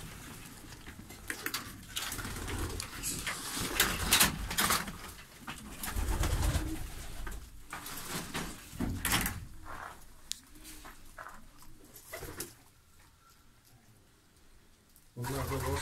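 Fancy breeding pigeons coo softly and intermittently in a loft in Bursa, amid rustling, shuffling and occasional knocks, while people talk nearby.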